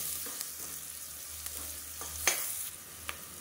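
Crushed unpeeled garlic and other ingredients sizzle softly in a pan for kulambu, with a utensil stirring and occasionally tapping the pan over a faint, steady frying hiss.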